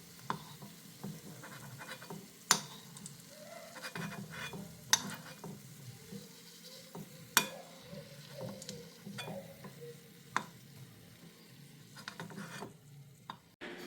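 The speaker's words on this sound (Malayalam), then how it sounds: "നെയ്യിൽ നിന്നും ഈ ചെറുള്ളി കോരിയെടുക്കുകയാണ്." Fried shallots being scooped out of homemade ghee with a metal spoon, with soft stirring and scraping against the pot and several sharp, isolated clinks spaced seconds apart over a quiet, low background.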